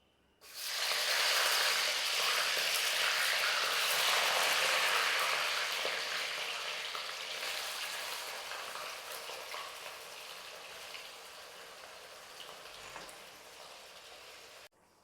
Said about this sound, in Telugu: నెయ్యి వేసిన తర్వాత కడిగి పెట్టుకున్న చికెన్ వేసేసుకుంటాను